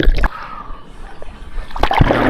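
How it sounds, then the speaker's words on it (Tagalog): Sea waves sloshing and splashing against a swimmer in strong habagat monsoon wind, close, uneven bursts of water with a louder splash near the start and again near the end. "Hangin habagat pala ngayon mga katamba, kaya lumalakas dito yung alon."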